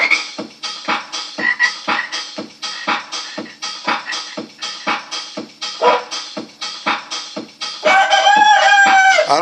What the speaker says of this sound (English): No reason a frog want to come inside.